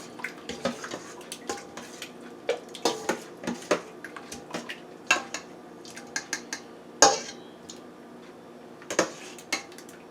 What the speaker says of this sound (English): now we're going to put our peaches and juice in the pan